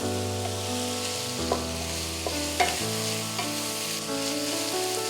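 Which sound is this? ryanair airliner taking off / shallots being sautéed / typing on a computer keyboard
shallots being sautéed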